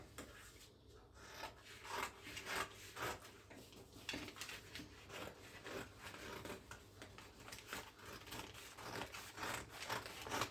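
Scissors cut through a paper blouse pattern in a quiet run of repeated soft rasping snips, each close but faint, with no talking.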